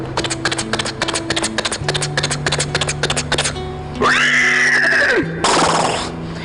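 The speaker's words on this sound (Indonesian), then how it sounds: "dari ujung sana sudah terdengar suara deru kuda" A horse, a riding mount, gallops in a rapid, steady clip-clop of hooves that gives way to a loud, close, drawn-out neigh, followed by a brief whinny at the end.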